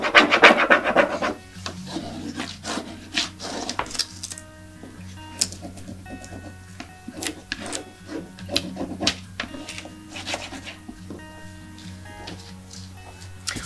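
An IOD transfer is burnished onto a surface in a series of short, dry rubbing and scraping strokes heard up close, irregular in rhythm, with faint tonal background music.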